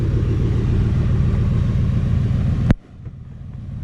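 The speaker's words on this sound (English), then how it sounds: "God, it sounds so good with that cold air intake and that resonator delete I did to it." Deep, rumbling idle of a Trans Am engine with a cold air intake and resonator delete, loud and steady, broken by a sharp knock before the rumble settles lower.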